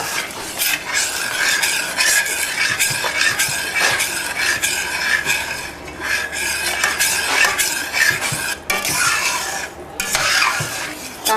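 Chana dal frying in ghee with sugar is stirred steadily in a pan, a continuous close scraping and rasping over a soft sizzle, with no talking.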